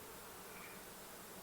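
Honey bees hum inside a busy hive, a faint, even drone that holds steady without breaks or voices.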